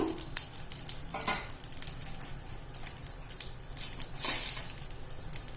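Cashew nuts fry in ghee for semiya payasam, a soft, continuous sizzle with gentle stirring scrapes and a couple of brief louder swells, fairly quiet with no talking.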